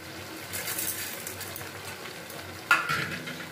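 Bottle gourd greens cooked dry with a little sugar are stirred in a pan for a Bengali chorchori, a soft sizzle under brushing spoon scrapes and one sharper clink near the end, with no voices.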